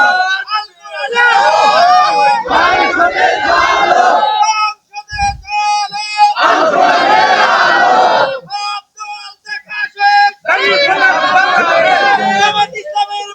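A large crowd at a Bangladeshi religious sermon gathering chants slogans in loud unison. It comes in three long bursts separated by short pauses in which a single voice leads the chant.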